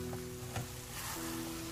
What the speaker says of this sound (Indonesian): ini saya tumis daging cincang dan juga saya masukkan kacang merahnya